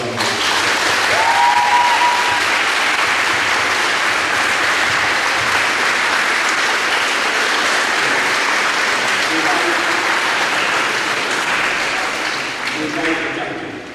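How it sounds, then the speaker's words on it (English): Sustained audience applause at a school celebration day, loud and even for over ten seconds before tapering slightly at the end, with faint voices underneath. "I'm sure that you would like to give Mr. Reed a huge round of applause for what he's done."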